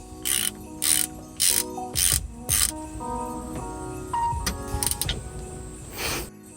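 A ratchet on a 14 mm hex snugs a Dodge Ram 1500 rear differential drain plug back in, giving several short bursts of rapid clicking, then slower, lighter ratcheting and metallic clinks, close and fairly quiet.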